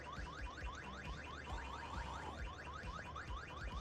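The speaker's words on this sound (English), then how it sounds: "Oh, I forgot about the fucking alarm" A car alarm blares in the survival video game VEIN, a rapid run of repeating whooping, warbling tones that loops steadily and loudly throughout.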